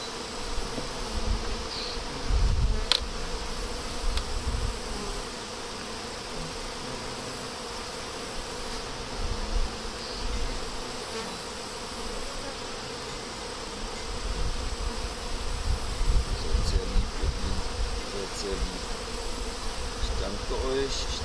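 Dense buzzing of many honey bees shaken from hive frames during a beekeeper's seasonal inspection, a steady close swarm drone with brief louder swells throughout.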